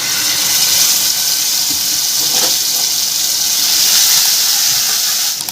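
Mustard paste ground with green chilies hits hot oil for a tilapia fish dish, producing a loud, continuous hiss and sizzle that holds steady throughout.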